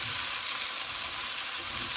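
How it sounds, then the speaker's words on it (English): Shredded red cabbage sizzles loudly in a hot pot, a dense continuous frying hiss heard close up with no pauses. "We're just going to toss that around in this pot."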